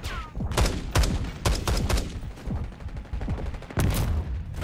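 Sharp gunshots from a two-shot weapon in Black Ops 6 multiplayer, crackling in quick irregular pairs and bursts with echoing impacts, including a loud blast near the end.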